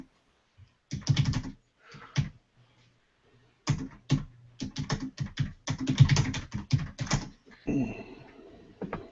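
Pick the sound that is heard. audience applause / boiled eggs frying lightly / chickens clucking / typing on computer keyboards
typing on computer keyboards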